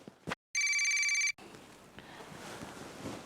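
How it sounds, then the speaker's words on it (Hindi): A telephone bell rings in one long, loud electronic burst after a short click, then cuts off into a quieter room with rustling background noise. "कब से फोन बज रहा है?"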